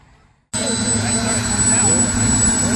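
Model jet engine running on the flight line at a model aircraft memorial event, starting abruptly as a loud, steady roar with a high whine, close by, under talk.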